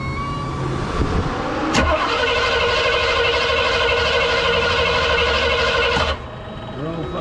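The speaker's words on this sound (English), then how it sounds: "should we just unplug the coil and just try and crank it" Car engine cranking over with its ignition coil unplugged at a drag strip pit area, a steady mechanical churning running for about four seconds before cutting off, with people talking nearby.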